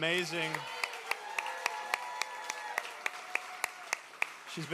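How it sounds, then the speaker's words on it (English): Audience applause at the final show of a departing performer at a SpeakEasy variety evening: sharp, evenly spaced claps ring out over a sustained tonal background, with a voice heard briefly at the start. "we want to make a big round of applause for Eiren"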